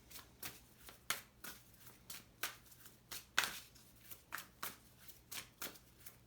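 Tarot cards being shuffled by hand in a quiet room, a steady series of crisp, papery riffles and soft flicks at close range, with no talking.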